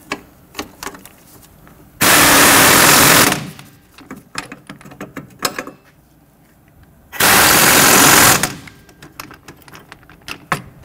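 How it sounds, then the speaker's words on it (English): Strut nuts and bolts being tightened on a 1992-1996 Toyota Camry rear suspension, two loud, sustained bursts of rapid impact-tool rattling about a second each, separated by metallic clinks and tool handling. "Just tighten down our strut nuts and bolts"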